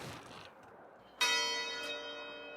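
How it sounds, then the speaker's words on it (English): A single loud clock tower bell strikes and rings out across a parking lot, its bright tone lingering and slowly fading after a quiet moment beforehand. "A loud bell chime echoed throughout the parking lot."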